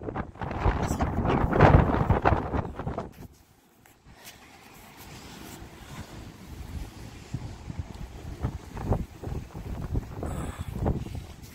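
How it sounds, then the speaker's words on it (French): Strong, violent wind buffets the microphone outdoors at a remembrance day gathering, roaring in heavy gusts that ease briefly before building again, loud and close throughout with faint background activity. "Ben, fort le vent, ça."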